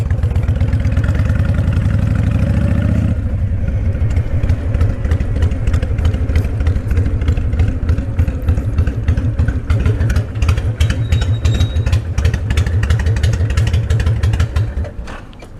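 A motorcycle engine idles steadily at a gas station, a loud close rumble with rapid regular firing pulses throughout; a brief revving surge opens before settling into the even idle, with clattering mechanical ticks over it.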